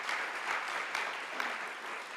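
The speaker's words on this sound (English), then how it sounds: "let's give that a round of applause" Steady, moderate audience applause during a talk show or podcast episode recording, a continuous wash of many hands clapping at medium distance for a couple of seconds.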